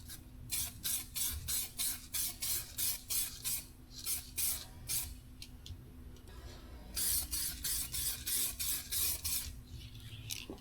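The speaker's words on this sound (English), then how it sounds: "So I'm going to spray." Aerosol spray paint hisses in a run of short, repeated bursts as a coat of color goes over runs in a repair, with a steady low hum underneath and no talking.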